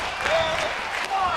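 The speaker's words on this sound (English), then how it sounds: "The crowd is screaming," A wrestling video game crowd in WWE 2K22 cheers and claps steadily, a dense roar sitting under someone speaking over it.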